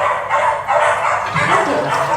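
A dog's bark plays in quick repeated bursts, loud and close, with some yipping and whimpering.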